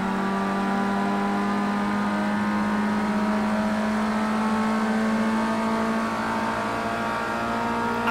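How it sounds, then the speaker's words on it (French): A race car engine in Project CARS 2 drones at high revs in a steady, loud, buzzing tone, holding pitch with slight shifts while under load and with no talk over it. "On maltraite le moteur, on repasse en 3."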